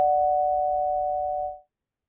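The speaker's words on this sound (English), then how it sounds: "Oh, I think that was a doorbell." A doorbell sounds once in an indoor room as a single steady electronic tone, held clearly for about a second and a half before it cuts off, with no talking.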